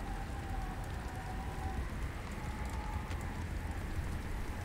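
Steady hiss of rain or hail pelting a surface in Subnautica: Below Zero, a dense, even wash of patter at constant loudness with no voices.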